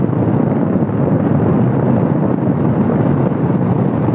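Strong wind roars over the microphone on an Xpulse 200 motorbike ride along a road near a hill climb, a loud, steady rushing blast with no talk.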